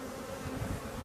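A honeybee buzzes close by at a beehive during a summer honey harvest, a loud steady drone lasting about a second before cutting off abruptly.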